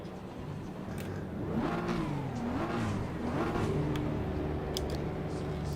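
Engine of a BMW M4 GT3 race car in a racing game, revving up and down through a few rising sweeps before settling into a steady mid-pitched drone, heard at moderate volume with no talking.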